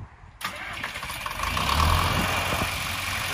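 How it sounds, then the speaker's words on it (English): A 1967 John Deere 3020 diesel tractor cranks and catches after a short quiet moment, then settles into a steady, close-up rumbling idle. "John Deere 3020 diesel."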